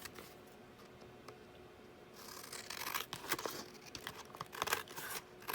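Paper scraps being cut down with scissors for a journal page, close-up snips and crinkling that grow busier and louder after a quiet start.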